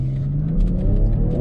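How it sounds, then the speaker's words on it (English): A BMW X7 launching hard from a standstill on a street: a loud, close engine roar and rising whir climb steadily as the SUV accelerates. "this thing accelerates"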